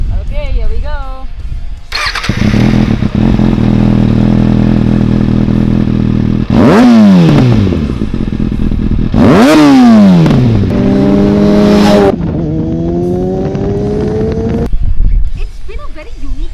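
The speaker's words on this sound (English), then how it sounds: "the sound of a motorcycle is actually one of the first few things that catches my attention" A 2019 Kawasaki ZX6R supersport motorcycle starts up loud and close, settles into a steady idle, then gives several sharp revs that rise and fall before easing back down.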